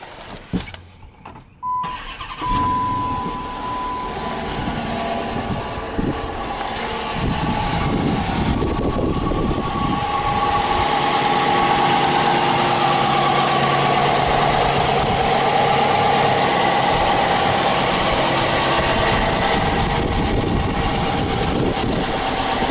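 A Dodge Challenger R/T Shaker engine cranks and catches, then settles into a steady idle with a faint whine running through it, after a few clunks at the start.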